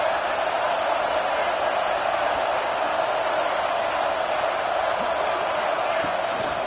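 Steady roar of a college football stadium crowd, a dense continuous wash of massed voices filling the whole stretch at even loudness, with no single voice standing out.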